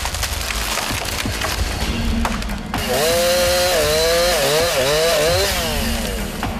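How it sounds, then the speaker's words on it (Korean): A chainsaw roars loudly and continuously during tree felling among tangled trees, its pitch rising and falling as it bites into wood, with crackling and splintering throughout. "얽히고 설킨 나무들 곁에서 조심스럽게 톱질을 하는"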